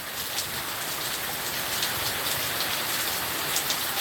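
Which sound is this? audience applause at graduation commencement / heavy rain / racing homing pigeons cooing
heavy rain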